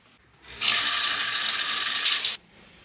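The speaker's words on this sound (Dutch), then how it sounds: "Zo, lekker gedoucht." A shower runs in a home bathroom, a steady hiss of spraying water that starts abruptly, holds evenly for about two seconds, then cuts off, with no talking.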